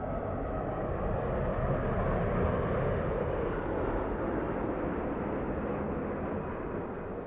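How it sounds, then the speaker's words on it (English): An Airbus A350-1000 airliner passing overhead at LAX, a steady broadband jet roar that holds loud throughout with a slow swell and fade, no voices. "We have a big A350 1000 catching me by complete surprise."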